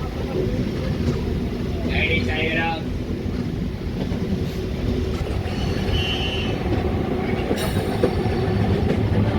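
A MEMU local train running from Kacheguda toward Nadikude Junction rolls steadily along the tracks through a curve, a constant loud rumble of wheels with brief metallic squeals, heard up close from on board.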